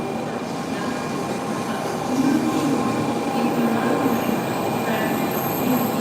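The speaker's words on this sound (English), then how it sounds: "Look at all those people on this Kyushu Shinkansen going towards Kagoshima." A Kyushu Shinkansen bullet train at Hakata Station rolls steadily close by with a loud, continuous rumble and faint wheel squeal amid busy platform ambience.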